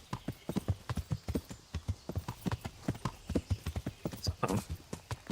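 Horse hooves clip-clop in a brisk, steady rhythm in Kingdom Come: Deliverance 2, close and prominent and continuing throughout, with a faint voice briefly heard near the end.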